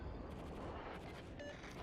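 Heavy naval gunfire from a French tier 8 cruiser, the Charles Martel, shelling the Bismarck in World of Warships; a continuous low rumble of distant booms with a dense, steady roar and no clear separate shots.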